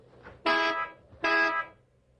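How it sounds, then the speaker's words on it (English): Two short, loud car horn honks about a second apart, quiet in between. "Guess I'll honk and let them know I'm here."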